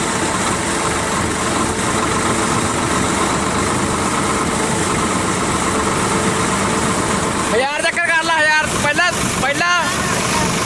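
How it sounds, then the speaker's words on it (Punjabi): A Sawraj 855 three-speed tractor engine runs in first gear with a steady, loud idling drone. A voice speaks over it near the end. "3 ਸਪੀਡ ਲਾ ਲਿਆ ਤੇ ਪਹਿਲਾ ਗੇਅਰ ਲਾ ਲਿਆ"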